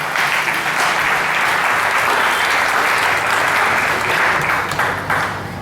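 Loud, dense applause from a crowd at an anniversary celebration, steady clapping and cheering that carries on without a break for several seconds.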